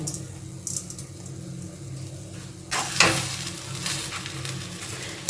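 Sugar being stirred into a spiced potato filling for aloo kochuri in a pan, with a steady soft sizzle, then scraping spoon strokes growing louder and busier in the second half.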